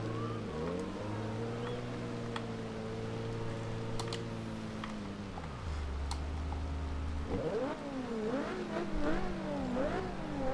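A steady 2010 Nissan 370Z engine hum in the Forza Horizon 2 video game, with harmonic tones that shift in pitch, dropping low then rising and wavering as it revs, continuous throughout.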